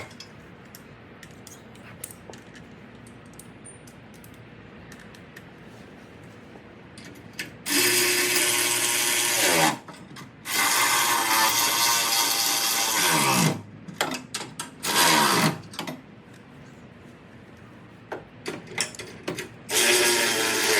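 After a quiet stretch, a power tool tightens trailer hitch bolts on a 2020 Jeep Gladiator Rubicon, with loud, close sustained whirring bursts and shorter stuttering pulses between them.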